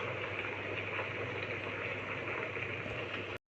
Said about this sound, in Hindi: स्टीमर गरम कर दिया है, अब हमें स्टीम लेनी है फेस पे।